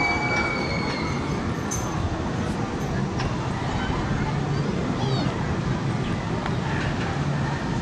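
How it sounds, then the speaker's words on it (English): A monorail train running along its rail in Rimini, Italy, with a steady rumbling and rolling noise close by, faint squeals on top and occasional voices in the background. "You got this monorail here"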